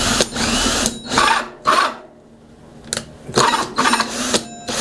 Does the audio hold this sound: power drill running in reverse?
yes